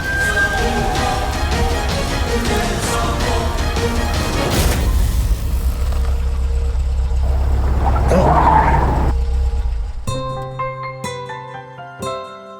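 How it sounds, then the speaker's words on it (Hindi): A car engine drones steadily, then tyres screech briefly as the car brakes hard to a stop, followed by a swell of dramatic music as the scene ends. "तुमने यहाँ गाड़ी क्यों रोक दी?"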